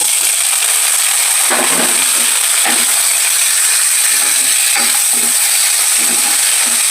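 Tomato is added to onions frying in a pan for egg curry. A loud, constant sizzle runs underneath while a spoon scrapes and stirs in several uneven bursts.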